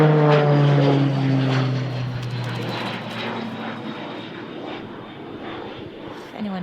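A propeller airplane flies overhead, its engine drone loud at first with harmonic tones sliding down in pitch as it passes and fades into the distance.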